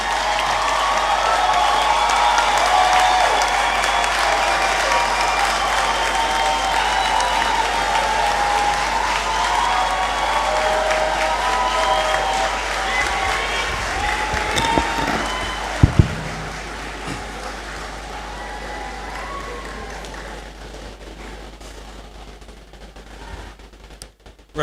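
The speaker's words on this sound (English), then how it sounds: "With a very big round of applause" A big round of applause fills the Great Hall at a University of Ghana graduation congregation ceremony. The dense, loud clapping runs on steadily, with a sharp thump partway through, then gradually thins and fades.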